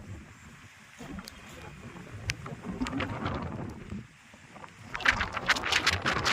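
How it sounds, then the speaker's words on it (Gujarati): Gusty storm wind roars and buffets the microphone in uneven surges, growing louder toward the end, with faint rustling in the background. "પવન એટલો સુસવાટા મારે છે."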